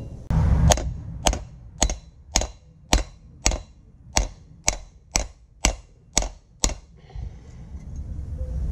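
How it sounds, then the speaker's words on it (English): A hammer bangs a bent steel winch hitch lift flat on a cinder block, striking about thirteen loud, evenly spaced metallic blows at close range before stopping, with no speech. "I'll just start banging it with a hammer"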